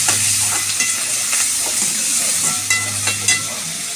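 Food frying in a pan and being stirred, a steady close sizzle broken by repeated scraping strokes of the utensil at an even, unhurried rhythm.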